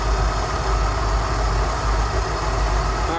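Rolls-Royce Silver Shadow engine idling steadily during carburettor tuning, a continuous low rumble held close and loud with no break throughout.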